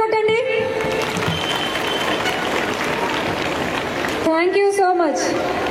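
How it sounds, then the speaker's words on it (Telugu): An audience at an Independence Day celebration applauds in a dense, steady wash of clapping, with a voice speaking over it at the start and again near the end. "గట్టిగా చప్పట్లు కొట్టండి."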